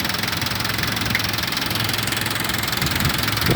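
An Isuzu Elf truck engine runs at idle with a steady rough knocking rumble, loud and constant close to the microphone, and no one speaks.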